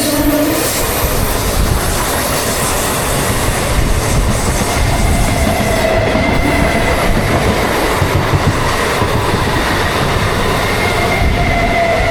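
An express train rumbles loudly and continuously as if heard from on board, passing through Dankuni Junction, with rhythmic clatter of wheels over track and occasional metallic squeal.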